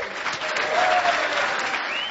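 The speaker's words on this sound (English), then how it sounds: "please give a warm and loud Boston cheer for Linda Plano" An audience at a Boston clean energy business presentation competition applauding, dense steady clapping and cheering from a crowd, continuous throughout.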